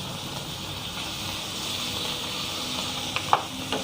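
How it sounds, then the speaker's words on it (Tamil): Coriander and mint leaves sauté in a pan for mint rasam, giving a steady close sizzle with a few light scraping stirs near the end. "மிக்ஸ் பண்ணிக்கலாம் லைட்டாக."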